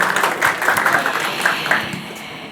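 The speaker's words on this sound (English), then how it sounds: "So how about a big round of applause for all of you?" Indoor audience at the MS Dhoni app launch event applauding, a dense, steady wash of clapping from a large crowd that thins slightly toward the end.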